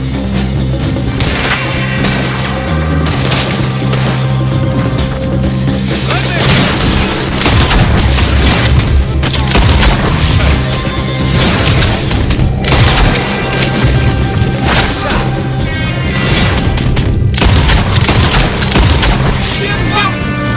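Gunfire crackles through a shootout in a Red Dead video game, with repeated loud booming shots and rapid volleys bursting over a constant background din, dense and close throughout.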